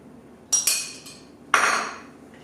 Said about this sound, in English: And then I'm going to add the mascarpone cheese and give that a really good stir.